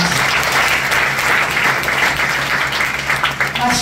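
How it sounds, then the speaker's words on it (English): A crowd at a business training event gives loud, dense applause that stays steady and unbroken throughout, close and enveloping. "Let's give yourself a big round of applause."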